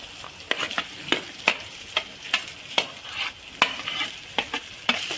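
Potatoes frying in a pan for sabudana khichdi are stirred with a spoon, giving a dozen or so sharp, irregular scrapes and clinks over a soft, continuous sizzle, close and fairly quiet.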